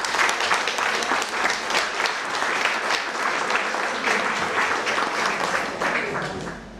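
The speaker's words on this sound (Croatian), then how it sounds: "Ohrabrimo Zvonimira pljeskom." A school audience at a technical school's anniversary celebration in Zagreb applauds steadily and fairly loudly throughout, with dense clapping that tapers off slightly at the end.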